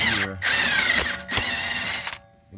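Impact wrench zipping out a front strut bolt on a 2015 Toyota Corolla: several loud, close rattling bursts separated by brief pauses, the last one trailing off.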